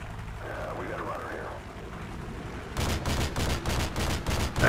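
Gunfire in Call of Duty Modern Warfare 2 comes in during the second half as a rapid string of close shots, loud and sharp, after a quieter stretch of ambient game noise with someone talking over it.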